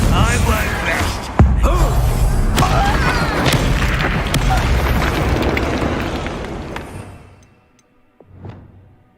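A Bombarda spell explosion from a Hogwarts Legacy fight erupts in a sharp, loud blast, then rumbles and crackles for several seconds before fading, with one more distant thump near the end and battle voices mixed in.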